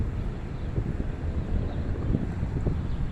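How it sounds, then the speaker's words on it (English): Strong wind buffets the microphone outdoors at a camp in a continuous low roar, rising and falling slightly in gusts with no talk. "It's windy as heck out here"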